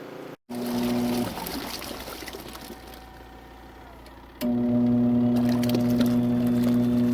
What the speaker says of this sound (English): turn the switch to drain and just wait for it to empty out the tub